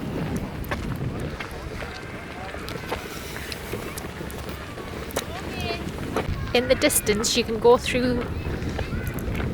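Wind gusts across open countryside and buffets a microphone, a constant rushing roar under a person talking, with stronger gusts near the end.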